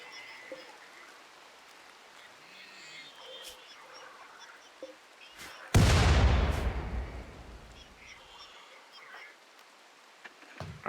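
Artillery shell fired in RimWorld by a colonist, one loud booming blast with a long rumbling decay that fades over several seconds, standing out against a quiet background of faint ambient noise.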